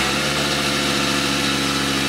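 A 16-year-old Volkswagen Beetle with about 72,000 miles idles steadily and loudly up close, a constant even engine hum with no talking.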